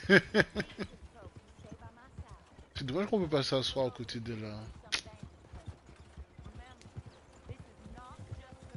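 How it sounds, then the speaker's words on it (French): A horse's hooves clip-clop in a steady rhythm in a video game, clear and fairly close, while someone talks in French over them. "je suis obligé de prendre mon cheval"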